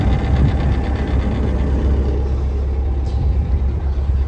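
A heavy tractor engine drones steadily and loudly close by while straining under load pulling a seeder, a deep laboring rumble with uneven knocking pulses and no pauses.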